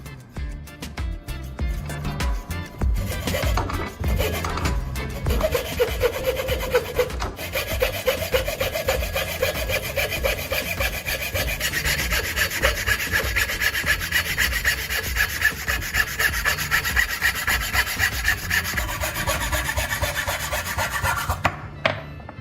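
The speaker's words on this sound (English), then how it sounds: "You can use a saw or a cutting tool." A hand saw cuts through wood in steady rhythmic back-and-forth strokes, close and continuous, with a rasping, filing edge building in the later strokes before the cutting stops.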